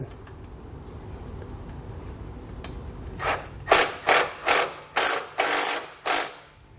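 A ratchet wrench re-tightens a bolt through a wiring ring terminal on a 2015 GMC Sierra 1500, giving a run of about seven loud, rhythmic rasping clicks close up after a quieter lead-in, with no talk.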